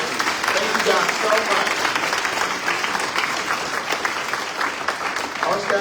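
Audience at a city council forum gives a round of applause for city staff, a steady sustained clapping from a room of people throughout.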